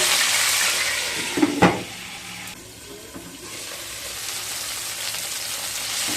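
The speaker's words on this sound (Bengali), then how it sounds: "ফুলকপিগুলোকে হালকা ব্রাউন করে ভেজে নিয়ে তারপর ফিরে আসবে" Cauliflower pieces fry in oil until light brown with a continuous bright sizzle, briefly interrupted by a clatter of a utensil, then settling into a quieter, steady hiss.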